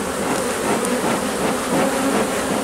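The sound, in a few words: agitated honeybees flying around an open hive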